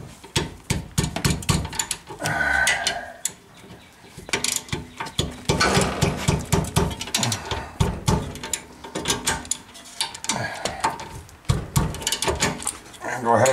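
A ratchet wrench snugs down rear brake bolts on a 2015 Toyota Corolla S, its clicking and clattering coming in close bursts with some mechanical clanks, while a person talks intermittently over the work.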